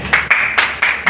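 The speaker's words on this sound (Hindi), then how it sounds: "जोरदार तालियों से स्वागत करें आप।" Sharp, rhythmic claps ring out close and loud at a community event marking a Ramcharitmanas society's foundation day. Only a handful of strokes sound in quick succession, with no speech.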